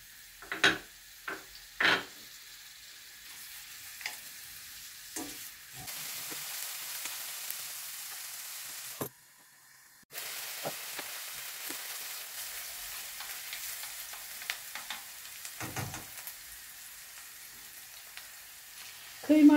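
Carrots and onions fry in hot oil for a stuffed mushroom casserole, a steady broadband sizzle running almost throughout with a brief drop near the middle and occasional stirring scrapes.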